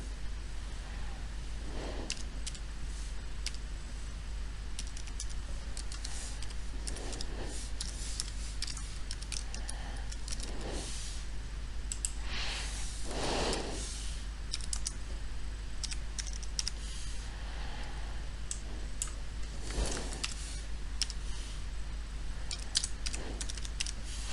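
Someone types on a computer keyboard in bursts of quiet, quick key clicks, with short pauses between runs.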